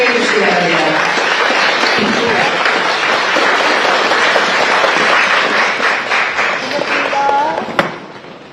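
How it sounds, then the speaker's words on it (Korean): A standing audience claps steadily and loudly to welcome the First Lady, Kim Hye-kyung, at a meeting with Korean expatriates in Canada. Voices murmur beneath the dense applause, which thins near the end with a sharp tap. "모두 일어나셔서 영부인님을 박수로 환영해 주시기 바랍니다"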